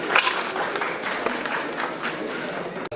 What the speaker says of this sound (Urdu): آپ سب کی زوردار تعریف دیجیے.